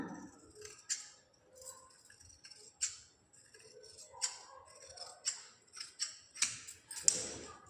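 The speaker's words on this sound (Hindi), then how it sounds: "इस तरीके से बराबर रख के हमें इसकी बाजू काट देनी है।" Scissors cut through the sleeve of a belted blouse's fabric in a series of crisp, close snips, irregularly spaced and growing more frequent toward the end, with no talking.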